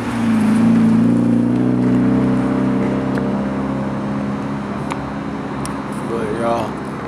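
A Mazda Miata pulls away at a laid-back outdoor car meet, its engine note rising and then fading as it leaves, with a person talking over it and a faint squeal near the end.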